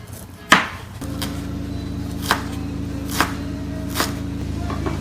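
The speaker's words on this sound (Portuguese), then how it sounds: "a primeira coisa que eu vou fazer é cortar o gengibre" A knife chops fresh ginger on a board for grilled octopus with vegetable rice: a few sharp, well-spaced thuds over a low, steady kitchen hum, close and moderately loud.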